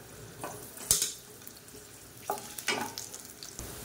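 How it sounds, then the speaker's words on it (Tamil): Garlic and a small lump of tamarind fry in oil for kambu dosai chutney, a soft crackling sizzle broken by a few sharp scraping stirs of a spoon against the pan, with no one talking. "இது கூடவே சின்ன நெல்லிக்காய் சைஸ்க்கு புளி அதையும் சேர்த்து எண்ணெயில் போட்டு வறுத்துக்கலாம்"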